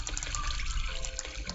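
Water flowing in Minecraft, a continuous close trickling and splashing wash over a short stretch, with no voices.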